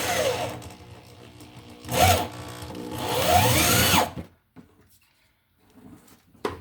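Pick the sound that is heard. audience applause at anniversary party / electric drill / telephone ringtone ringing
electric drill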